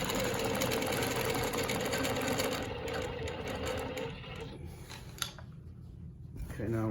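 A longarm quilting machine stitches along rulers while sewing Baptist fan quilting patterns, a steady close mechanical whir that thins out and stops near the end, with a voice talking over it.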